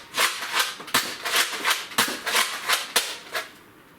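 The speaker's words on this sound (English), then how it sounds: "Let's see if we can get all the chambers to fire." A Nerf Rough Cut blaster fires its chambers one after another, giving about eight sharp, close snaps in an uneven rhythm with no voices.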